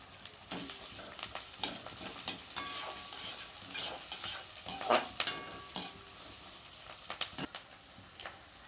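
Chopped capsicum and green chilies are stir-fried for chilli chicken, with repeated spatula scrapes and clinks against the pan over a soft sizzle, close and intermittent, without speech.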